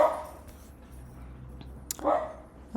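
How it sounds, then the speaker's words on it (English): A pet dog barks a couple of times at home in the evening, two short muffled barks heard some distance away against quiet room noise. "Sorry about my dog."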